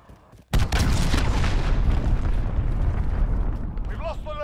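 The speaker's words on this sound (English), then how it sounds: "Allied cruise missile away" A large explosion from an allied cruise missile strike bursts in suddenly in the Call of Duty Modern Warfare team deathmatch, then a heavy rumbling roar holds on at full loudness, with a short warbling tone near the end.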